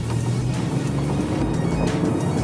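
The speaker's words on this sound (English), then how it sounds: "The engine just works really bad." An old Audi engine runs badly with a low, continuous, uneven drone, heard from inside the car.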